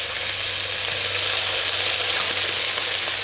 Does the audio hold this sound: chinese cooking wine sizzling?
yes